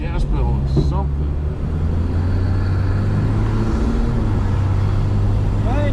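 A Dodge Dart accelerates with a steady, loud low engine drone heard from inside the car, continuous for several seconds with faint background noise.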